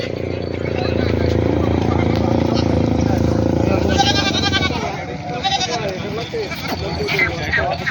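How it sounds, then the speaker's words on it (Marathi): A native-breed goat bleats at a busy goat market, its calls rising over a dense crowd of voices and trader chatter, with a motorcycle faintly in the mix. "ही दुसऱ्या विताना शेळी आहे मित्रांनो गावरान जाती आहे"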